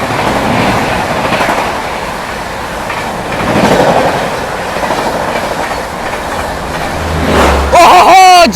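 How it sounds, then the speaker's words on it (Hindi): Garib Rath Express on the Bhagalpur–Anand Vihar route rushing past close by, a loud continuous roar of wheels with clickety-clack rhythm, ending in a brief metallic squeal and horn-like tone near the end. "सामने से आ रही है गरीब रथ एक्सप्रेस भागलपुर आनंद विहार"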